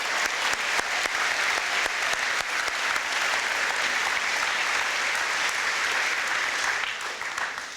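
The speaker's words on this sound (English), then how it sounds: "Let's give the students one more round of applause for this outstanding achievement." An audience claps steadily for students at a school presidential awards ceremony, a dense even round of applause that tapers slightly at the end.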